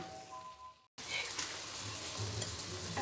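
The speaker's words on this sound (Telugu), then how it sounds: "మన గ్రేవీ అంతా చాలా వరకు ఫ్రై అయిపోయిందండి ఇప్పుడు" Crab curry gravy, Andhra-style crab pulusu, fries in a pan with a steady, close sizzle and stirring that starts after a brief near-silent moment and continues unbroken.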